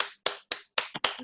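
A handful of separate sharp hand claps ring out close by in an irregular sequence, as a few meeting participants applaud the winner.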